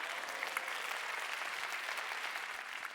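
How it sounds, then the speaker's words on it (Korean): Applause from an audience at a Korean lecture-style talk event, a steady dense wash of many hands clapping for about three seconds, moderately loud and alone without speech. "박수 한번 쳐주세요."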